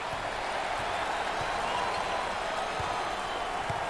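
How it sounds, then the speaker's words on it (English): Crowd at a 2023 NCAA March Madness second-round basketball game between Illinois and Kansas, a sustained roar of cheering and scattered clapping, steady and broad throughout, with a commentator's voice faintly underneath. "there's all kinds of people standing and cheering and going wacky"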